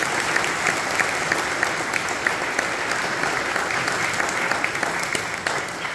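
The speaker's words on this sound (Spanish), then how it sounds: "Les damos un aplauso." A church congregation at a Sunday Mass applauds to honour people celebrating birthdays: steady, dense clapping from many hands, filling the hall evenly for several seconds, with no speech on top.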